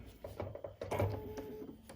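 A sewing machine stitches a 1/4 inch seam around fabric for a mask, giving short bursts of quiet mechanical whirring and clicking in uneven starts and stops, close and faint.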